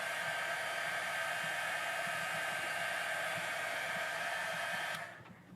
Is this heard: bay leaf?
no